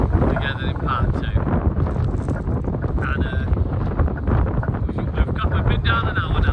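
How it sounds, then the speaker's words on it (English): Strong southwest wind batters the microphone on Chesil Beach in Dorset, a constant loud rumbling roar with gusty surges and no break. "It's a very windy day. Strong southwest wind blowing out there."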